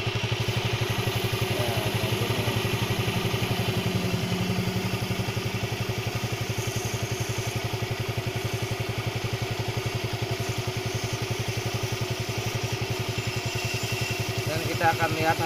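Carbureted Yamaha Mio scooter engine idling after reassembly, a steady, even putter close by that runs the whole time.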